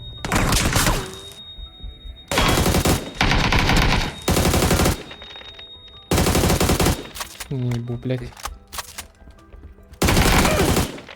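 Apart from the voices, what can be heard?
gunfire in a video game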